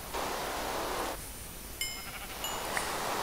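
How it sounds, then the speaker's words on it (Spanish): Sheep bleating in the video game Minecraft, a loud, close, wavering bleat over a steady background hiss, followed by a short bright game chime. "Vale, tengo aquí a la oveja marrón."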